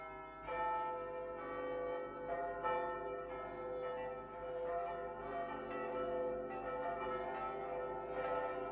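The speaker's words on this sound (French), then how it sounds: "Les cloches sonnaient à toute volée au-dessus des toits de Moscou." Church bells peal over Moscow, several overlapping rings with long ringing tones, struck repeatedly in a steady swinging rhythm, heard at moderate distance with no voices.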